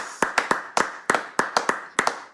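Sharp, separate hand claps in an uneven rhythm, about a dozen over two seconds, close and fairly loud, from a congregation at a church prayer service, with no speech over them.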